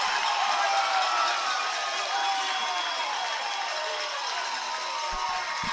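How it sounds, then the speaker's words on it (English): A crowd at a baseball playoff game roars steadily after a late-inning play, a dense, sustained wash of cheering heard from within the stands. "The crowd is absolutely electric here."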